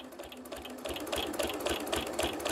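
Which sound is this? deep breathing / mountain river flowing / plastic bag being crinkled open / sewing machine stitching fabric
sewing machine stitching fabric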